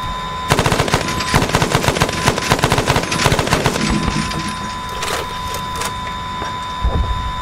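Rapid bursts of automatic gunfire, loud and close, in a combined-arms military video game, with several dense volleys and then sparser shots. No voices.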